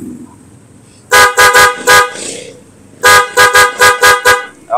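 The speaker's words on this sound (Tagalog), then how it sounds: "yung loud horn natin" A loud aftermarket horn on a Honda ADV160 scooter honks in two bursts, four sharp toots then five more, with a quiet idling hum between them.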